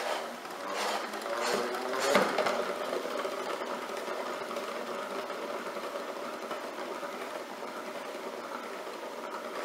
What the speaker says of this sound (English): just put your kale in your salad spinner